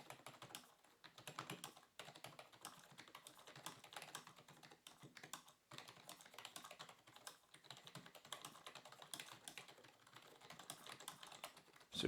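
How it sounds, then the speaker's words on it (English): Steady mock typing on a Havit quiet LED backlit keyboard produces soft, rapid, muted key presses in a continuous run, quiet and close with no talking. "let's do a key press test by doing some mock typing"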